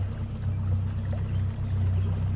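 A boat motor on the Illinois River, still being broken in, idles as a steady low hum with a rumbling tone, close and constant throughout, with no voices.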